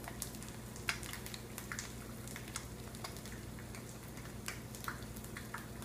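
Soft, steady crackle of an egg frying in a pan, made of scattered tiny pops and ticks over a low hiss, quiet and close with no talking.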